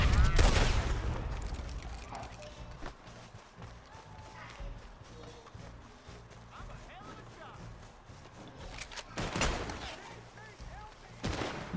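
Bursts of gunfire in Red Dead Redemption 2 Online crack and rattle in clusters, loudest at the start and again near the end, with someone talking over them.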